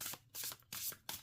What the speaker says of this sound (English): A lovely shuffle sound.